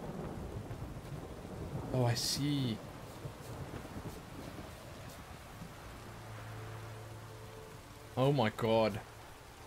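Low rumbling thunder and rain in The Witcher 3 run as a steady backdrop under two short bursts of speech, with a faint low tone in between.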